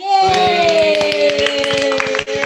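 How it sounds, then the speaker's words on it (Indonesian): Rhythmic hand clapping at a live talk event, close and fairly loud. A sustained sung or cheering voice carries over the claps throughout. "Tepuk tangan."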